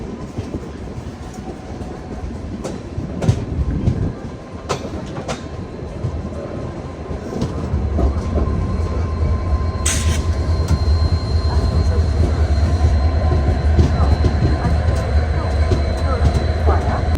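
Ajmer–Durg weekly express train running on rails, wheels clattering and squealing with sharp metallic clicks, then the rumble swelling into a loud, steady roar of the moving carriage for the rest of the stretch.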